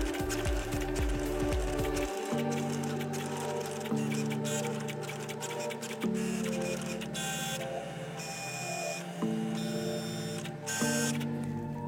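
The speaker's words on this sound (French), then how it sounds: "Elle détecte ensuite la lame fine pour procéder à la découpe." A Cricut cutting machine cutting a card with its fine blade: whirring motor moves in rhythmic, stepped bursts with brief pauses and higher mechanical whines, close and steady, with no talk.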